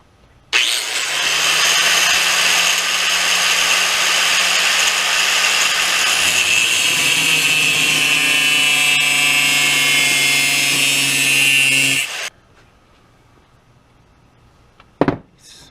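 A power tool grinds material off a torque converter on a 420cc engine build, a loud, continuous whining cut that shifts pitch midway, runs about eleven seconds, then stops abruptly, followed by a quiet pause and a sharp knock.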